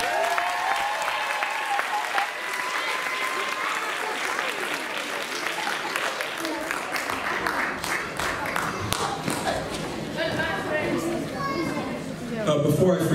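A school performing arts awards ceremony audience bursts into sustained applause for newly named eighth grade officers, a thick, continuous roar of clapping from many people, with cheers and crowd chatter mixed through it.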